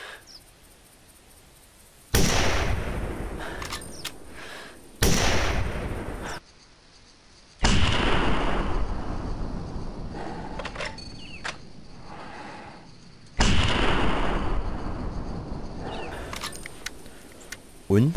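Loud rifle shots from a low-level hunting rifle in the video game The Hunter 2014 go off about five times, each a sudden blast with a long decaying rumble, while someone talks between them.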